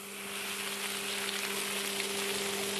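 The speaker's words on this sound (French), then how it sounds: "Vous allez entendre le grésillement." Waffle batter sizzles inside a hot waffle iron at the Maison Méert waffle house: a steady, close hiss that holds evenly throughout over a faint, constant electrical hum.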